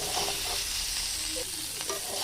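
Pork sizzles in a pan without oil, a steady loud hiss of frying with faint stirring scrapes, no voices.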